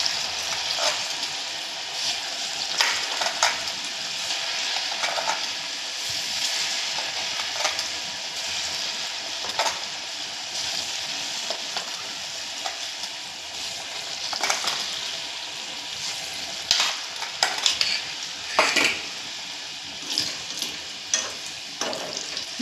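Spoonfuls of bhaji batter dropped into hot oil fry with a continuous loud crackle, with scattered sharper pops and occasional utensil clinks over about twenty seconds.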